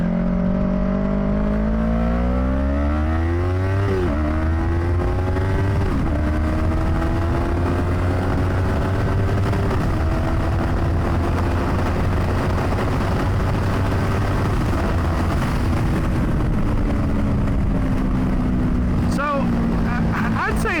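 A Yamaha YZF-R3 sport bike with 41 horsepower pulls while being ridden, its engine note climbing through repeated revving runs and gear shifts, loud and continuous with wind rush throughout.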